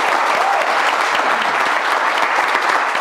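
A studio audience on a quiz show applauds, dense, loud and continuous clapping filling the whole moment without pause.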